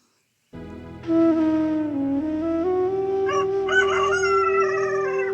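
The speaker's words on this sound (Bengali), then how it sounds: "মুরগির ডাক তো এত জোরে শোনা যায় না এটা মোরগের ডাক" A rooster crows loudly in a neighbouring garden, one long, drawn-out cock-a-doodle-doo that rises and holds for several seconds, close and clear with nothing else heard.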